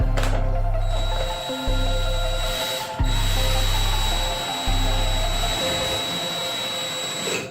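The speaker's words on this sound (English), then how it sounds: "you just have to kind of put the screw in and then hope you get it right into the joist" A power drill drives a screw into a ceiling joist in repeated whirring bursts, spinning up, pausing and restarting several times at close range with a loud steady motor whine.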